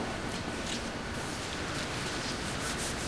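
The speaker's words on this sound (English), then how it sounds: "Came back over with the sander." A sander grinds steadily across a cast concrete piece in a broad, continuous rasping hiss that stays at an even level from start to finish.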